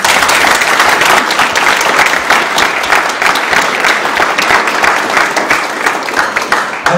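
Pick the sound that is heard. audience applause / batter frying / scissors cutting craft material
audience applause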